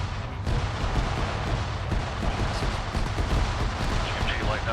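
Mortar shells land during an ArmA 3 infantry battle. A dense, continuous barrage of booming impacts and gunfire rolls on at a steady loud level throughout, with no clear pause between hits.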